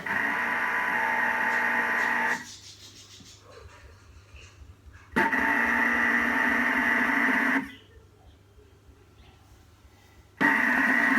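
A kitchen machine on its knead setting runs in steady loud bursts of whirring motor hum, stopping and restarting about every few seconds with quiet gaps between.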